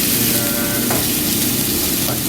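Lotus root (renkon) sautéing in a hot pan for Japanese kinpira, a steady close sizzle with faint stirring scrapes throughout.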